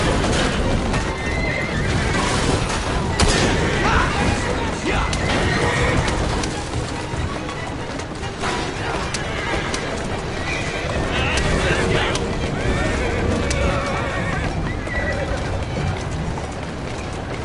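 Carriage horses in a Victorian London street chase from Assassin's Creed Syndicate neigh and whinny over steady clip-clopping hooves and rumbling wheels, loud and continuous, with voices talking over the action.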